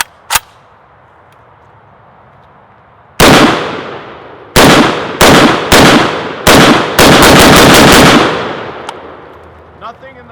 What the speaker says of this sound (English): the Rifle Dynamics full-size AK and this one right here, we are going to shoot it.